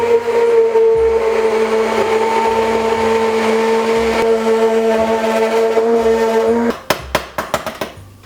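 A blender purées tomatoes for lasagna, whirring loudly and steadily for several seconds, then stops, followed by a few sharp knocks and taps.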